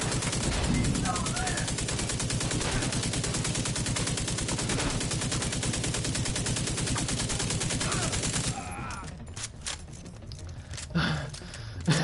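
Sustained automatic gunfire in the video game The Division 2: a long, rapid, evenly paced stream of loud shots lasting about eight seconds, then stopping abruptly into quieter scattered sounds and brief voice.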